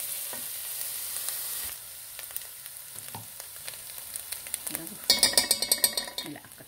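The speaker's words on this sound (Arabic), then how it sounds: "نحمص شوية بصل، أكيد مع الدهن الحار السمن البلدي" Onions frying in hot local ghee (samn baladi) in a pot, steady sizzle that drops after a couple of seconds, then brighter crackling and repeated stirring scrapes toward the end.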